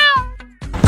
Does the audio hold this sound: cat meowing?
yes